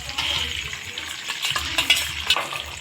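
An egg frying in hot oil in a wok for egg chow mein crackles and sizzles steadily, with brisk scraping and clinks of a spatula against the metal. Nobody speaks.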